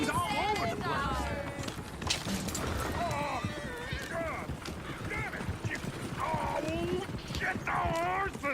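Horse hooves clip-clopping in the Red Dead Redemption 2 game, steady and fairly close, with a horse whinnying and people talking loudly over them throughout.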